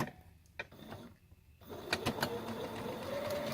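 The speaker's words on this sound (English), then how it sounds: "So then what I'm going to do is now just stitch straight down" Sewing machine stitching half square triangles for a mini quilt with a 1/4 inch foot, a steady mechanical whir that starts partway through after a few quiet clicks and keeps running, close and moderately loud.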